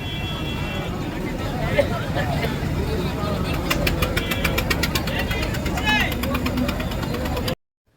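A passenger launch boat's engine drones and knocks steadily on the Ganges at Varanasi, close and loud, under a background of crowd chatter.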